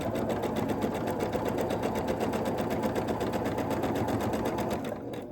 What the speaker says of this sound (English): go ahead and sew on the thick side